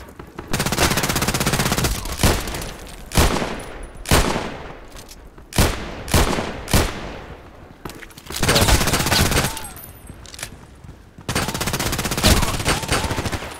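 Loud gunfire in the online shooter Contract Wars, with long automatic bursts and sharp single shots in irregular clusters separated by brief pauses, close and dominant throughout.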